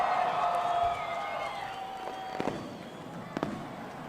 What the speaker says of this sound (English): And the fireworks goes up right.